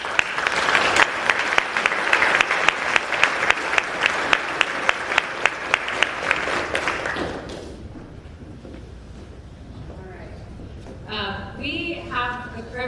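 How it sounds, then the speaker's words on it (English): A crowd at a family and community town hall on Fort Sill gives a steady round of applause with crisp individual claps for about seven seconds, then it fades and a voice starts speaking. "And let's give them a round of applause"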